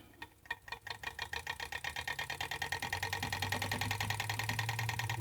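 A small Jensen 85BB toy steam engine runs on compressed air. Its quick, even chuffing starts slow, then speeds into a rapid mechanical patter, and a low air hiss joins partway through.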